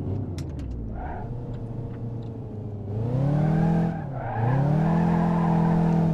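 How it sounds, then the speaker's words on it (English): An Ibishu Kashira ZX 3.5 AWD drifts on all four wheels in BeamNG.drive, its engine droning and surging in pitch, dipping briefly before roaring back up, loud and close with no talking. "got a little four-wheel drift action going"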